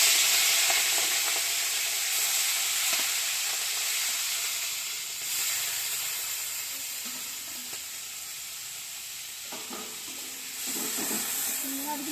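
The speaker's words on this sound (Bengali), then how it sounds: "চিংড়ি মাছটাকে আগে ভেজে নেব" Steady, close sizzling of shrimp frying in hot mustard oil, a bright hiss throughout with occasional clinks of a utensil stirring in the pan.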